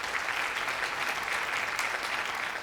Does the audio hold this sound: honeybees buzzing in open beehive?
no